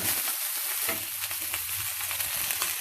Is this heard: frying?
yes